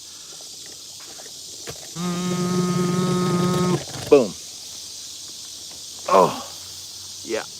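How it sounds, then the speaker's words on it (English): Cicadas buzzing loudly outdoors on a summer evening, a steady high-pitched drone running throughout, with a brief harmonic tone and a few voices and bumps over it. "If it's loud, it's hashtag cicadas."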